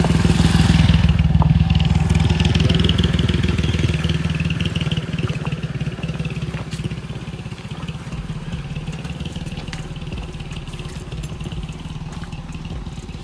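A motorcycle passes on a Jamaican road, its engine loud and close at first, then fading steadily as it moves off, heard outdoors with constant background noise and no talking.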